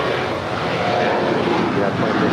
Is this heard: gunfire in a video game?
no